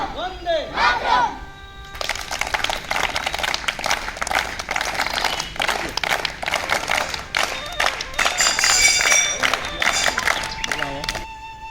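At a school tree-planting event for veterans, schoolchildren chant slogans in unison and clap, their voices loud and rhythmic over a brief opening stretch of talk. The chanting and clapping continue steadily for most of the stretch.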